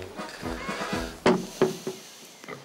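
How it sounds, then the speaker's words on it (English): A pig on a Victorian-style farm grunts and squeals in short close bursts, a few sharp calls after softer snuffling, with no talk over it. "You're a gorgeous pig, aren't you?"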